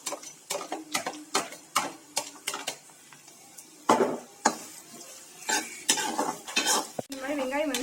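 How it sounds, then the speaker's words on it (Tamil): Chopped onions sautéing in hot oil in a pan for paneer bhurji, with repeated stirring scrapes and utensil knocks against the pan over a steady sizzle, close and fairly loud, no talking. "இப்போ என்ன சூடாயிடுச்சு, இதுல வந்து கட் பண்ணி வச்சது வெங்காயத்தை சேர்க்கிறோம்"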